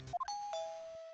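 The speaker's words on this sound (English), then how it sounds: "Oh, that's the doorbell." A two-tone doorbell chime rings in the Phoenix Wright: Ace Attorney Trilogy video game, a quick pair of bright notes followed by a sustained ringing tone that fades out, alone and fairly quiet.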